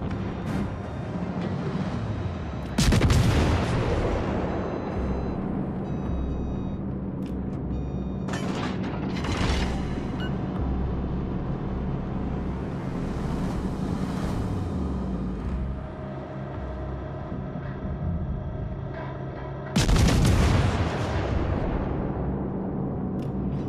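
Warship artillery in the video game World of Warships: Legends fires in heavy booming salvos, with big blasts near three, nine and twenty seconds over a constant rumbling engine and sea roar.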